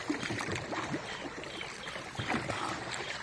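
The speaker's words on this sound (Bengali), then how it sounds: "আর এই ডাঁড়ের আওয়াজ, বুটের আওয়াজ, আর নৌকোর মাথার যে জলের আওয়াজ" A wooden rowing boat moving slowly along a river bank, with quiet, irregular oar splashes and gentle water lapping at the bow, faint and close with soft gurgles between strokes.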